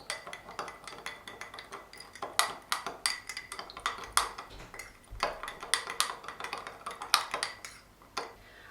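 A spoon stirs yeast and a teaspoon of sugar in a bowl, giving repeated light clinks and scrapes against the bowl in an irregular rhythm, close and fairly quiet, with no talking.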